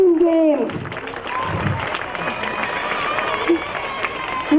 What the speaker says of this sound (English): Let's all clap for them and clap a big cheer to class 3 children.